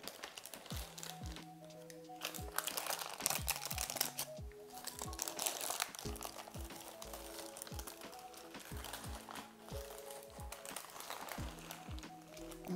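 Baking paper crinkles and crackles as it is slowly peeled away from a baked celeriac and almond cake, close and fairly soft, with background music playing throughout.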